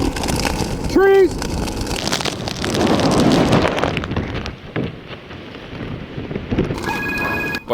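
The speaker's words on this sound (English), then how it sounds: "I'm in the middle of a hurricane." Category 4 Hurricane Charley howls with roaring gusts of wind and driving rain buffeting the microphone, surging loudly then easing slightly, with a brief tonal chirp early on.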